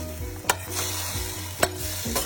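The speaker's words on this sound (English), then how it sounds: "Stir it, let it all get mixed and caramelized in here." Asparagus sizzles in a pan with balsamic vinegar while a utensil stirs it, giving a steady close frying hiss broken by a few sharp scraping strokes.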